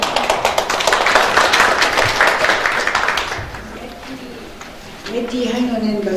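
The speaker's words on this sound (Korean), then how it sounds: "같이 박수로 보내겠습니다." Seminar audience applauds in a hall, a few seconds of brisk clapping that fades out, followed by a speaker's voice coming in.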